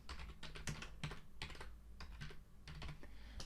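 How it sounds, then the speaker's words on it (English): Close, quiet clatter of keys on a computer keyboard as a chart title is typed, a quick irregular run of keystrokes with brief pauses between words. "I click in here and I can type in total staff"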